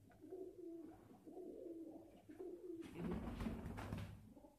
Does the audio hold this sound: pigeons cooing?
yes